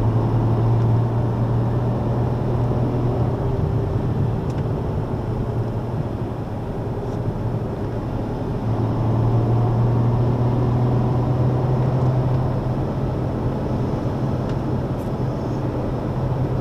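Ferrari F12 Berlinetta engine accelerating around the Magny-Cours circuit, a loud steady in-cabin roar with a sustained low drone that swells again partway through, with no pauses.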